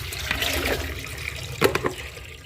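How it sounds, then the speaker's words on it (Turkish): Tap water runs and splashes over olives being rinsed for brined olives, a close, continuous gush with a few louder splashes near the end. "Şu böyle sadece göstermek amaçlı sudan geçireceğim."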